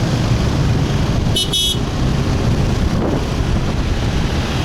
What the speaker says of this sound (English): And also the traffic, nice traffic in Vietnam.